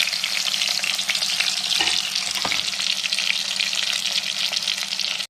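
Soaked, salted fish pieces fry in a hot pan with a loud, steady sizzle that runs throughout, broken by a few faint scraping stirs.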